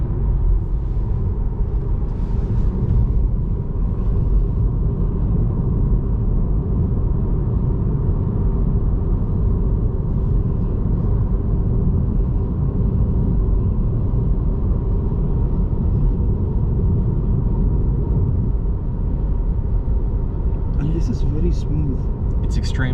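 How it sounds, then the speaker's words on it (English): Tyre road noise fills the cabin of a Tesla driving along the Swan River, a steady low rumble with faint wind, while a person talks over it throughout. "All you hear is the road noise from the tyres, and that's it, and sometimes a bit of wind noise as well."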